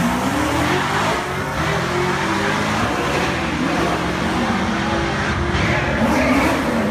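Lemon Twist, a dual-purpose street and track race truck, with its engine running loud and close, a dense steady roar that keeps going without a break.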